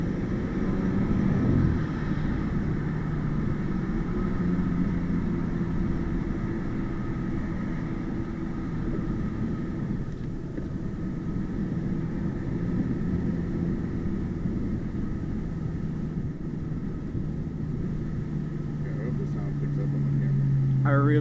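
Full bolt-on BMW 328i engine droning steadily from inside the cabin while driving, a constant low hum with a gear change near the end, without any talk over it.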